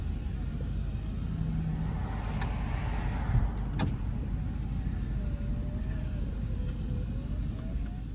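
Passenger-side power window in a 2003 GMC Sierra 2500HD truck runs with a faint, steady motor whine after a couple of switch clicks, heard from the driver's seat inside the cab.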